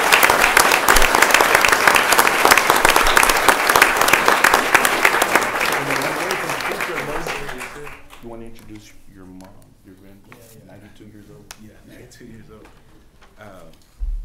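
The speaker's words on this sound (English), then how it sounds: "Let's give Chef Alejandro, this family, a wonderful applause." Applause rings out at a city council meeting, loud and steady for about eight seconds before dying away, then a speaker talks over the quieter room.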